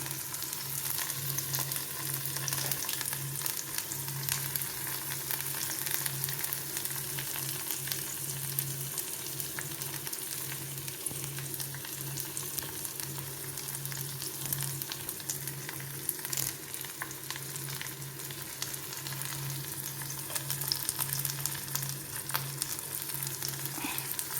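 Garlic, ginger and curry leaves fry in a pan with a constant close sizzle and spattering crackle, over a faint steady hum, lasting throughout without talk.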